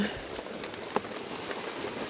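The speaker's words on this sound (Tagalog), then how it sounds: "Ang ulan-ulan pa." Steady rain patters on a surface in Leyte, Philippines, a soft continuous hiss of drops with a single sharper drip standing out.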